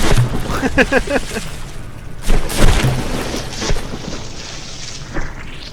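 Repeated booming explosions on battleships in the naval combat game From The Depths, a series of heavy blasts and rumbles spread across the clip with a voice speaking over them.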